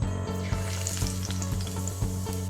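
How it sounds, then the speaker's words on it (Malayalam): Loud, crackling sizzle of curry leaves hitting hot oil, a dense continuous spatter up close with a few stirring knocks. "നമുക്കിതിൽ കുറച്ച് കറിവേപ്പില വറുത്തെടുക്കാം"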